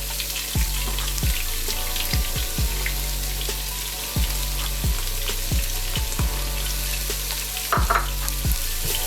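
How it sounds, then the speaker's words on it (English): Minced shallots sizzle loudly in a pot of oil and butter, a dense close frying hiss with a series of regular knocks from a spoon stirring against the pot, and no talking. "I put some oil and some butter in there, about 3 tablespoons of butter. I also took 2 shallots, minced those up. We're gonna drop that in."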